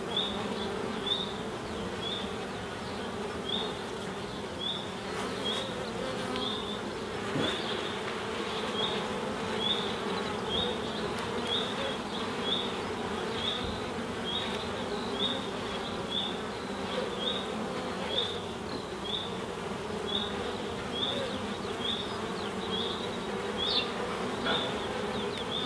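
Honey bees buzz inside a nuc hive, a dense, steady hum running throughout with a constant higher whine above it. The sound stays close and even, with no voices.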